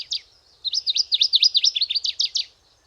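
Powerful warbler of northern habitats singing a loud, close, chunky phrase: a brief opening note, a pause, then a rapid run of about a dozen sharp, ringing syllables in quick regular rhythm, with no voices.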